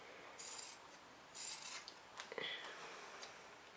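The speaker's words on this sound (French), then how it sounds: "maintenant je vais découper l'excédent de tissu là où j'ai cousu seulement" Scissors snip away excess fabric beside the stitched seams of a zippered tote bag, producing a few short, close rasping cuts in separate bursts with quiet pauses between them.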